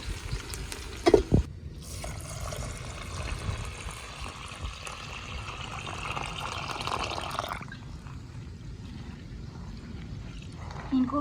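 Water poured into a vessel to soak whole spices and ingredients for village-style yakhni pulao, a steady splashing pour lasting several seconds with brief clatter at the start, as someone talks over it.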